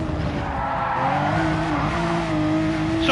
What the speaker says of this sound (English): the car's sliding, it's all over the place